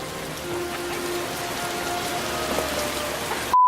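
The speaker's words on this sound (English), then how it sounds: "it just started coming down. Like, it is raining" Steady outdoor rain patters on surfaces, a soft continuous hiss of drops that ends in a sudden tone.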